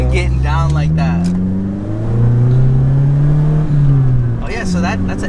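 Honda Element car accelerating hard in second gear during street racing, a loud sustained engine roar climbing in pitch close by, with people talking over it at the start and end.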